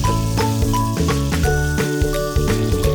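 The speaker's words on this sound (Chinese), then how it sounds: "倒入葱段，煸炒约10秒" Scallion pieces stir-fry in hot soybean oil with golden ginger slices, giving a steady sizzle that runs beneath prominent background music.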